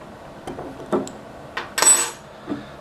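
A bottle cap comes off a hard cider bottle: a few small clicks and taps, then a short, sharp fizzy hiss, close and fairly quiet, with no talking.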